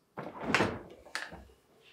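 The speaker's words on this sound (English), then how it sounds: "To remove the gasket, we'll first need to open the refrigerator doors." Whirlpool Maytag French refrigerator doors are pulled open, giving two quick thumps with a soft seal release, one after the other, close and fairly loud.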